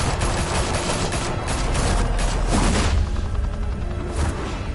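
Rapid bursts of gunfire from a firefight in Batman: The Telltale Series, dense overlapping shots and booms rattling on loudly for several seconds without pause.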